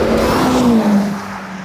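A modified budget Skoda Yeti engine pulls hard on a fast lap, a loud, close drone holding steady, then dipping slightly as the car powers on.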